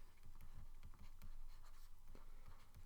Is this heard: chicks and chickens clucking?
no